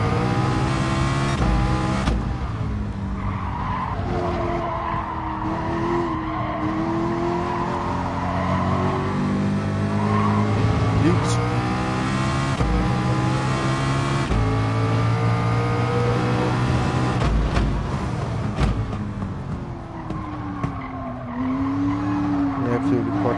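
Race car in the GT Sport video game on the Dragon Trail circuit, engine roaring with rising and falling revs while tires squeal through a snap-oversteer skid, with a voice talking over the continuous loud mix.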